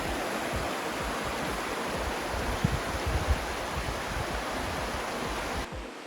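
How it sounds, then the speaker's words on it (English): A monsoon waterfall in Tamhini Ghat, India, gives a loud, steady roar of rushing water that runs unbroken throughout, with no talking. "the sound of the water to your ears is amazing"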